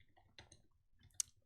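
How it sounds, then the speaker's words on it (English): Keystrokes typed on a computer keyboard while coding a Spigot 1.15 Minecraft plugin, a few faint, sparse clicks with one sharper tap near the end, quiet and close. "now I'm typing this line in"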